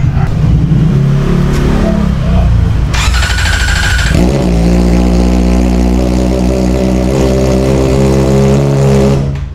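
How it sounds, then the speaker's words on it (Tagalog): Kawasaki ZX-4RR motorcycle engine revving with the exhaust removed, loud and close, a harsh continuous roar with a sharp rev rise partway through that settles into a steady high-pitched drone. "hindi daw advisable na paandarin yung motor ng walang exhaust"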